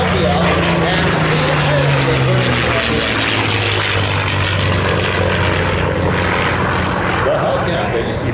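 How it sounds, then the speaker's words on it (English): A Grumman F6F Hellcat warbird fighter flies past at an airshow, its propeller engine a loud, continuous drone with a falling pitch as it passes, amid steady crowd and wind noise. "the Hellcat that you see flying here today was acquired by the Erickson Aircraft Collection in October of 2017"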